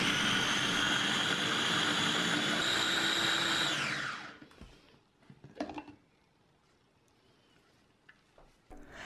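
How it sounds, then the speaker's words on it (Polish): A kitchen blender purees blueberries into a smooth mousse, a loud high motor whine running steadily for about four seconds before it winds down, followed by a few quiet clunks of handling. "Jagody przekładamy do blendera i miksujemy na mus."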